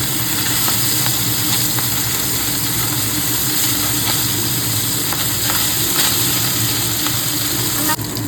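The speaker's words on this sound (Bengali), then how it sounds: "মাছটা আমার ভাজা হয়ে গেছে" Tangra fish fries in hot oil in a pan, giving a continuous close sizzle with a steady hiss and occasional small pops, unbroken from start to finish.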